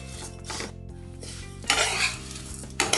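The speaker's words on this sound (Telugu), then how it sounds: "ఇప్పుడు సేమియాని బాగా కలుపుకొని దోరగా వేయించుకోవాలి." Vermicelli being stirred and roasted in a pan for semiya halwa, with short metallic scraping and clinking strokes up close and a soft dry rustle, no talking.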